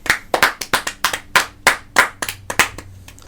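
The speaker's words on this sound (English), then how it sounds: "Round of applause for Dustin Poirier" A few people clap for a UFC fighter during a post-fight analysis show, about a dozen loud, close, slightly uneven claps that trail off.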